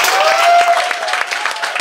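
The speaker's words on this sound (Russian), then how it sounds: "Аплодисменты." A studio audience bursts into dense, continuous applause for an invited guest on a television talk show, loud and close, with a faint tone running underneath.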